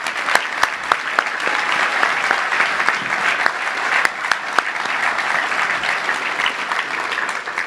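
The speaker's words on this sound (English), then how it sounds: "Let's give a round of applause to all of our honorees." Sustained audience applause at a touchdown club honors luncheon, dense and steady for several seconds with a few sharper claps and scattered voices standing out near the front.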